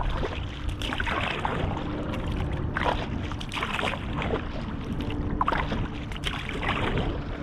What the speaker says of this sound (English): oh yeah, this kayak paddles real nice